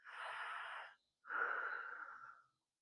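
Two slow, deliberate breaths through the mouth during a squat exercise, a long airy exhale-like rush followed after a short pause by a second, slightly stronger one, close and soft.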